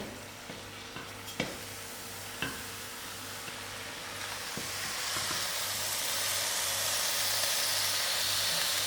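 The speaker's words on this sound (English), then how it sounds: "I'll give this a very good stir." Green jackfruit curry, with the jackfruit boiled in salt, is stirred in a pot, giving a few sharp utensil knocks early on, then a steady sizzling, steamy hiss that builds and fills the background.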